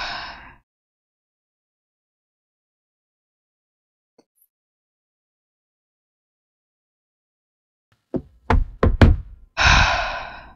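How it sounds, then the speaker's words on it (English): Near silence for several seconds, then a quick series of about five sharp knocks on a door, loud and close, with a breathy sound at both the start and the end. "We have to go knock on Lisa's door"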